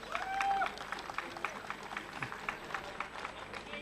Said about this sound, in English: deserves our attention and a round of applause